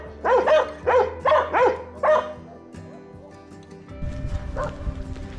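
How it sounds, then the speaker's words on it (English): Dogs bark in a rural Chinese village, a close run of about seven sharp barks in quick pairs, followed by quieter rustling and footsteps outdoors. "Of course, I'm greeted by barking dogs."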